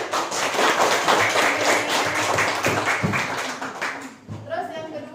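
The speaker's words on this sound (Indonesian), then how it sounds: "Silakan tepuk tangan." A seventh-grade classroom breaks into dense, lively applause from many students for about four seconds before it fades and voices take over.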